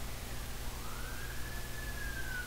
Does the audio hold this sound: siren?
yes